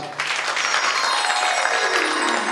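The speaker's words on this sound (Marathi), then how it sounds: "या सर्वांकरता या जोरदार टाळ्या वाजवा" An audience at a Shrimad Bhagwat katha gathering applauds: a dense, loud, continuous wash of many hands clapping that holds steady throughout.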